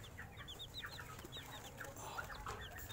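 Shamo heritage chicks peep in quick, high-pitched chirps, many overlapping calls repeating steadily and close by, faint overall, with no talking over them.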